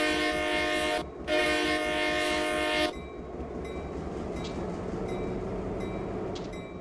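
A freight train locomotive in Train Simulator 2014 on the Stevens Pass route sounds its horn in two loud blasts with a brief gap between them, then settles into a steady engine rumble.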